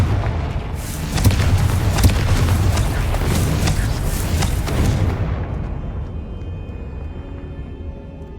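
Blasting spell explosion in the Hogwarts Legacy video game: a loud, sustained booming roar with crackling bursts that holds for several seconds, then cuts off abruptly to a quiet hum.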